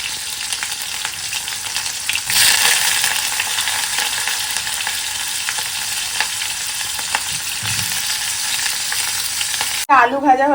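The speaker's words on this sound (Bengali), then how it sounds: "ফুলকপি ভাজা হয়ে গেল" Cauliflower florets fry in a pan with a loud, steady broadband sizzle and occasional stirring, ending in a brief different noise near the close.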